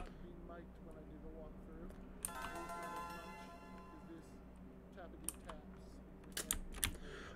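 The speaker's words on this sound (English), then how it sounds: "this tappity taps with the mechanical keyboard" Rapid clicking of a mechanical keyboard being typed on in a quiet basement room, steady tapping with a few sharper clacks near the end, close and moderately loud with no talking.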